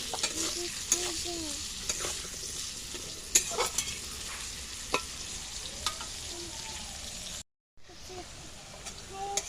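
Potatoes sizzle in hot oil in a pan for a vegetarian home meal, with soft frying hiss throughout and repeated scraping, clinking stirs from a spatula, close and fairly quiet.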